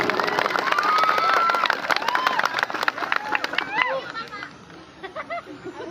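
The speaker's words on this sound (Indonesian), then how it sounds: "Tepuk tangan buat Kang Hengki." Crowd applause for Kang Hengki at an SAR volunteer simulation event, dense clapping mixed with whistles and chatter for about four seconds, then fading into scattered voices.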